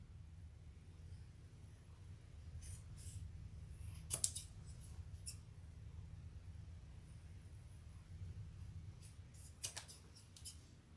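Sharp scissors snipping through leather for a waist pack, a few crisp cuts in a quiet room, with clusters of clicks around the middle and near the end.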